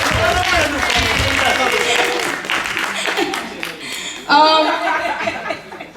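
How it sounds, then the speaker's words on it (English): Audience applause and scattered laughter for the cast of a club scene at a behind-the-scenes movie event, a steady crowd wash with voices and chuckles mixed in, swelling briefly near the end. "please give them all a round of applause"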